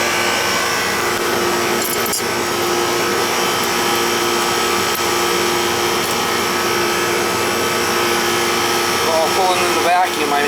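A vacuum pump hums loudly and continuously while pulling vacuum on an old three-ton AC system at a wedding chapel, with faint clanks and a voice briefly under it.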